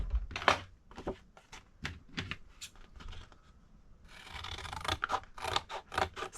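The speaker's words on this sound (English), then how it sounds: "so I'm just going to trim that down" Scissors snip through paper in a series of crisp, close cuts while trimming pages for a junk journal. The cuts come in uneven bursts, quicker toward the end.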